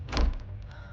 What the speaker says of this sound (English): I pushed the hotel door open.